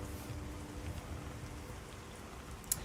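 Rain in the video game Pantheon MMO, a soft, steady, even wash of falling rain, faint and continuous, with a brief tiny click near the end and no voices.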